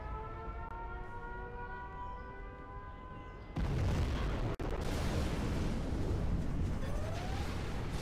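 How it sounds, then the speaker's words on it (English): A nuclear missile launch and blast in the strategy game Command & Conquer Generals Zero Hour: a steady rising siren-like drone, then a sudden loud, broad roaring explosion rumble that sustains for several seconds. "We have launched our nuclear missile."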